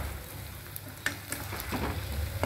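Potatoes frying in ghee for a devotional bhog, stirred in the pan: a soft steady sizzle broken by a few scraping stirs, close and quiet.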